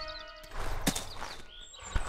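Horse hooves clop in the Western video game Call of Juarez, a few thudding steps mixed with a brief whinny and game ambience, close and moderately loud.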